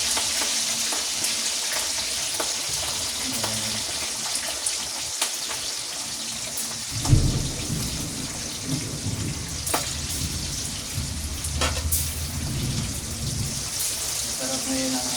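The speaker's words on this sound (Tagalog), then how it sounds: "ipiprito ko rin po itong ating okra" Okra and eggplant frying in hot oil, a loud continuous crackling sizzle with some stirring bumps, while heavy rain and a thump of thunder sound in the background.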